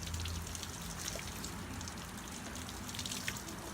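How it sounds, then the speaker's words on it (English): Water drains steadily from the bottom hole of a soaked potted cilantro plant, making a soft continuous trickle and patter that stays close and even throughout with no voices. "Now it has a hole in the bottom so the water's going to drain out."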